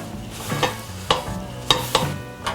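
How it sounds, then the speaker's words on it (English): Seafood pasta sauce for scialatelli allo scoglio bubbling in a pan, with a soft steady sizzle broken by several sharp stirring clatters of a utensil against the pan, close and fairly loud, no talking. "Once you see that really simmering up, you can lower that flame and just let it to continue to simmer."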